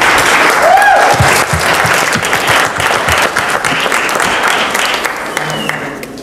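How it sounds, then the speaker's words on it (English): An audience at a talk by two rabbis gives a round of applause, a full, close burst of clapping that stays strong for several seconds before slowly thinning out. "So, give it a round of applause."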